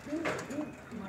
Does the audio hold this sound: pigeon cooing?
yes